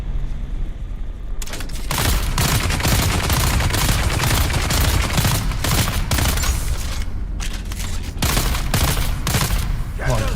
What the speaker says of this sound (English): Come on, keep shooting at me, buddy.